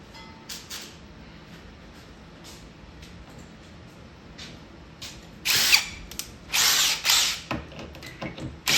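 A power screwdriver backs out screws on the front of a 19-inch CRT monitor taken from a poker machine, giving several short, loud whirring bursts close by against a quiet background.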